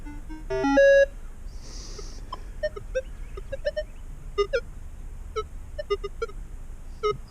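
An XP Deus 2 metal detector with a nine-inch coil runs a noise cancel: a quick rising run of electronic tones opens, then scattered short, clear beeps and blips follow at uneven intervals over a quiet background.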